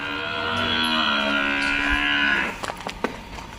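A buffalo offered for sale lets out one long, loud, close moo lasting about two and a half seconds, followed by a few faint clicks and knocks.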